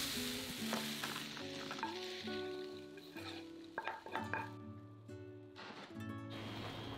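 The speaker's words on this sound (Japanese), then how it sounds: "透き通るまで炒めたら一旦取り出しておきます。" Frying pan sizzling steadily as ingredients for Japanese potato croquettes are stir-fried until translucent, with a few light scrapes and clinks of a utensil against the pan throughout.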